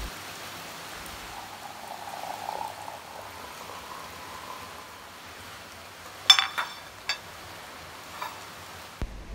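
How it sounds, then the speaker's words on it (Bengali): Steady rain falling on a rainy morning, a soft even patter throughout with a few louder close drips and taps toward the end. "আজকে সকাল থেকেই বৃষ্টি হচ্ছে, তাই আমি বৃষ্টির আসল শব্দটা ভিডিওর মধ্যে একটু রেখে দিয়েছি।"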